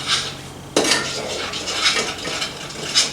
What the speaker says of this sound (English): you gotta be careful and keep stirring as the flour will stick to the bottom of the pan